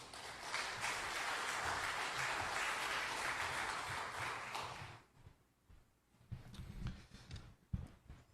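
Audience at a church election candidates' public hearing applauds to welcome the debate moderator, a broad steady clapping wash for about five seconds that then cuts off, leaving quiet room noise and a few thumps.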